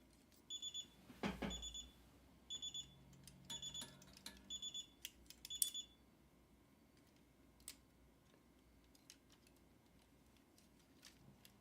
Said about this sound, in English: Oh, the beeping? That's the security.